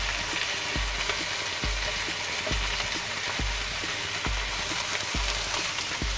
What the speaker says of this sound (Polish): teraz będziemy smażyli na drugiej stronie